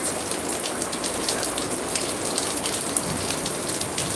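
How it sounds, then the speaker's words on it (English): Steady, dense rain in Kingston, Jamaica hisses continuously, drops pattering on surfaces with a few sharper splashes, with no voices. "So yeah, we're enjoying the rain."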